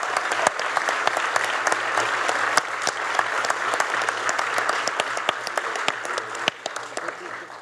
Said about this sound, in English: Everybody, please join me in giving them a big applause.